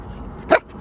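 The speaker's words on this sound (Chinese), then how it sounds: "Have a look, this is a dog" A single short dog bark sounds at moderate distance, sharp and brief, over a quiet outdoor background.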